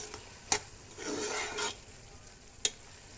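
Mutton keema with green chillies is stirred and fried in a pot, giving raspy scraping strokes across the base with two sharp clicks of the spoon against the metal. No one speaks.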